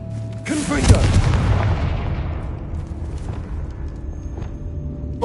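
A Confringo blasting curse detonates in a tomb in Hogwarts Legacy, a loud booming explosion that rolls out into a long decaying rumble.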